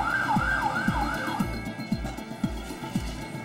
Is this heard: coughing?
no